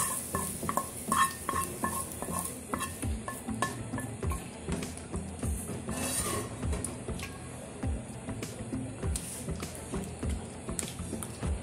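A spoon scrapes and clinks in a pan as sautéed onion is stirred into white sauce for a gratin fish dish, giving steady, close stirring and tapping over a soft sizzle, with no talking.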